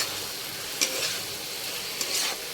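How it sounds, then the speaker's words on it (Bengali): Shrimp with elephant foot yam stalks sautéing in a pan after more than ten minutes of cooking: a constant close sizzle with two brief scraping stirs, and no voices. "দশ মিনিটের উপরে এরকম কষা হচ্ছে"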